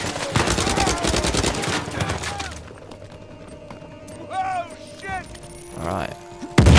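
Gunfire in the video game Uncharted 4: A Thief's End, heard as a loud, rapid stream of shots over the first couple of seconds that then fades into quieter game ambience with faint chirping and a final sharp crack.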